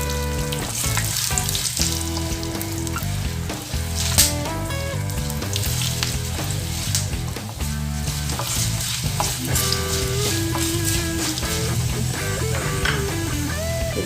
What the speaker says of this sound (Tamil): ஒரு 10 காஞ்ச மிளகாய் இதில் போடுறேன்.